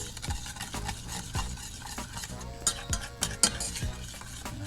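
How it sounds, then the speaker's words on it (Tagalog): Tteokbokki sauce solution being stirred into water in a pot, with a spoon scraping and clinking against the sides in a steady, repeated rhythm, close and fairly loud. "mix lang natin yung solution sa water siyempre."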